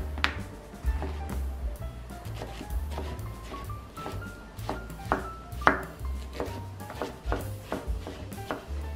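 A knife chops zucchini on a cutting board in a steady series of sharp taps, close by, with a faint background hum.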